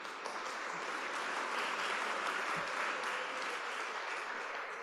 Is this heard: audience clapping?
yes